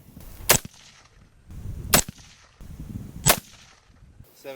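Three sharp, loud shots from a Marksmen Firearms AR15 rifle at an outdoor range, evenly spaced about 1.4 seconds apart, each cracking hard and then trailing off in a brief echo.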